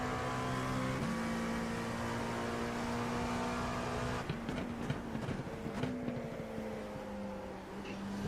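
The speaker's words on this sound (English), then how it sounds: "faster class car approaching" A race car in the sim racing game iRacing holds a steady, droning engine tone, then a faster class car closes in and passes about halfway through, bringing a rougher burst of engine noise before the drone settles again.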